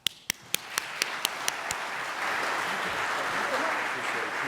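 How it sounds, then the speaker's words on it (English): A conference audience gives applause that starts as a few sharp, separate claps. These build within about two seconds into a sustained, moderately loud ovation that continues to the end. "Clap."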